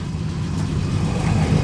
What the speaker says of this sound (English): I have to have a quick listen to that exhaust, that great 6 cylinders.